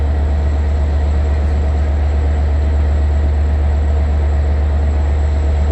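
Long Island Rail Road train 2798, the Cannonball, passes at Westhampton with a steady, loud low rumble and engine drone that holds without break.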